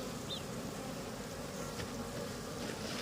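Honeybees buzz steadily inside a two-storey beehive, a low continuous hum that stays even and close throughout, with no voices.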